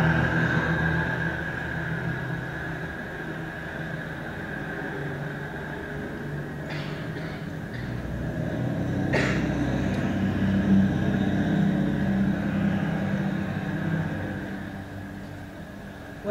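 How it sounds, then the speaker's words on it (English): Steady outdoor ambience in Pigeon Park, a city square in Vancouver, with a constant low traffic rumble and broadband hiss, a few brief distant clanks, growing slightly louder midway. "What you're hearing right now is Pigeon Park, the square outside of Co-op Radio."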